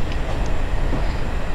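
A regional train runs on line 292 in Train Simulator 2024, giving a steady, moderately loud rolling rumble with faint rail clatter and no pauses.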